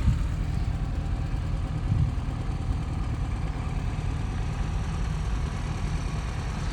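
A 998cc Mini engine idles steadily with a low, even rumble and no change in pace, close and moderately quiet throughout.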